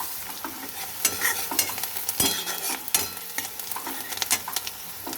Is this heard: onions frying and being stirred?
yes